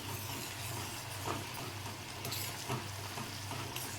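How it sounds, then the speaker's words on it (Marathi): Sugar syrup boiling in a pan on a high gas flame while being stirred: a steady, dense bubbling hiss runs throughout with faint spoon movements, close and even, with no talking. "आता ही बघा उकळ आलेली आहे आता हे दोन मिनटं हलवून घ्यायचं मी गॅस मोठा ठेवला आहे"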